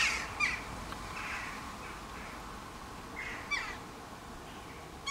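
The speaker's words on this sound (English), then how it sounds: "there's friggin' crows going mental out here" Crows cawing outdoors in agitated bursts, several harsh calls at middle distance scattered over a steady background hiss, moderately loud with gaps between calls.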